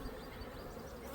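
Honey bees drone inside a single brood chamber hive as a dense, steady buzz, close and unbroken, with no voices.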